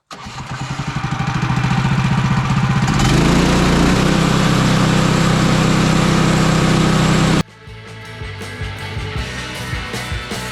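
A Woodland Mills HM130Max sawmill runs at a steady loud engine drone while its blade bites into a board for wood flooring, the load deepening midway before the cut ends abruptly and a lighter idle with clatter follows.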